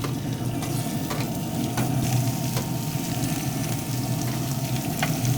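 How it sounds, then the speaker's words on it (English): Scallops sear in hot oil on a grill, a steady close sizzle and crackle with scattered pops and light scraping, with no talking over it. "And here we go with our scallops. You can hear that sear."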